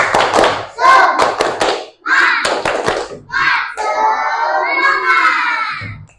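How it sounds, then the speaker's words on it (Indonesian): Schoolchildren in an Indonesian classroom do a rhythmic spirit clap, with bursts of sharp hand claps mixed with loud chanting young voices in quick, patterned phrases, ending in a sustained shouted call. "Sebelum pulang tepuk semangat dulu ya."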